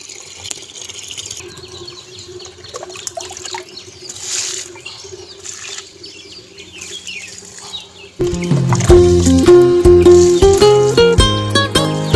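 Water trickles and splashes into a container being filled to water plants, gentle and uneven with birds chirping faintly, before loud music abruptly takes over.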